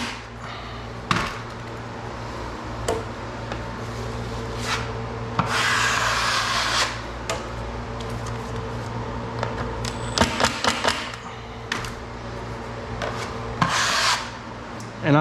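A drywall knife scraping and feathering joint compound over screws on bare sheetrock, with repeated close rasping strokes and rubbing passes in bursts, and a steady low hum underneath.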